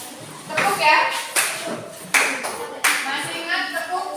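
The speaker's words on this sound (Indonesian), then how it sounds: "Silakan duduk, tepuk tangan." Children in a classroom clap their hands in a few sharp, loud, synchronized bursts, close by, mixed with children's voices and an adult speaking.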